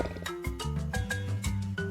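A tiger roars against a steady music bed, its growl short and loud across the whole clip.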